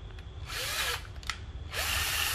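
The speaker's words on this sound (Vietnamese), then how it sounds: "Cây khoan đầu kẹp 10 ly, cây Ryobi ha." A used Japanese Ryobi cordless drill with a 10 mm chuck runs freely in two short bursts with a brief pause between, its motor whine revving up and down close by.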